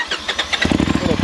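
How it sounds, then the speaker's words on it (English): A cold engine fitted with silicone charge tubes cranks with rapid rhythmic pulses, then catches and fires into a loud, close, throbbing run. "cold start."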